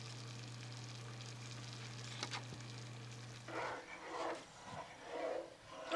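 Marinara sauce simmers in a pot. A faint steady hum gives way to soft, irregular bubbling and plopping in the second half.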